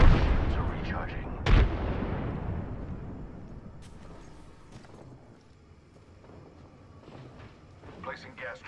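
A video game battle sounds out: a heavy grenade blast opens with a booming rumble, a second sharp explosion follows, and the roar trails off into a long decay. Scattered gunfire and game voice lines come in later.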